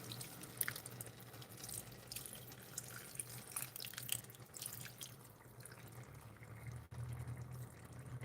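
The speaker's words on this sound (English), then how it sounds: "To add some more water." Water pours and trickles into a pot of jollof rice, a soft, steady splashing that stays faint and close.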